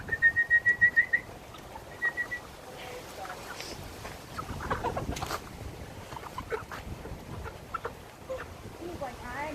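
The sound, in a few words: birds calling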